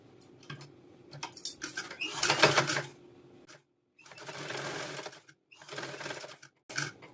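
Sewing machine stitching the front part of a princess-cut blouse, running in three separate bursts of rapid stitching with short pauses between, close and fairly loud.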